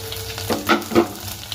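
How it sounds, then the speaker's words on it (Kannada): Onions, green chillies, urad dal and chana dal fry in a little oil for a Kannada basaru, giving a short close sizzle with a couple of stirring scrapes. "ಸ್ವಲ್ಪ ಎಣ್ಣೆಯಲ್ಲಿ ಬಾಡಿಸ್ಕೊಳ್ಳೋಣ"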